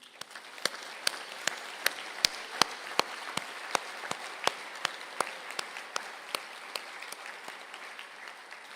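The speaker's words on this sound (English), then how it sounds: "I ask the graduates for the Masters of Arts in Creative Practice to please stand for a round of applause." An audience at a graduation conferring ceremony in Galway applauds graduates, a continuous wash of clapping with steady, evenly spaced louder beats running through it for several seconds.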